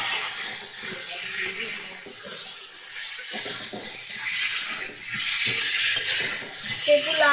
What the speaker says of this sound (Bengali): লাল লাল করে আমি ভাজা করে নেব